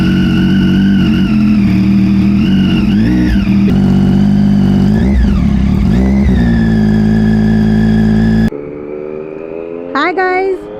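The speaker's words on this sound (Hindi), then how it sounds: "आज मैं चला रही हूँ ट्रायम्फ की डेटोना 675" A Triumph Daytona 675 sports motorcycle revs and pulls hard while being ridden, its engine note rising and falling loudly and close up, with a quieter, sharp rev flare after a sudden drop near the end.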